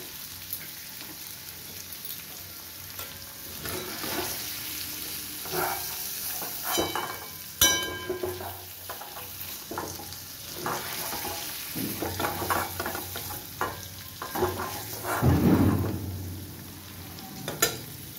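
Paneer cubes fry in hot oil in a pan, a steady close sizzle with scattered spitting crackles and occasional stirring scrapes, no voices.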